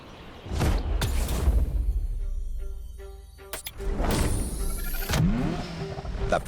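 A Ferrari F40 in the racing game The Crew Motorfest, its engine revving in sharp bursts with rising and falling sweeps, loud and close, with a couple of clunks between revs.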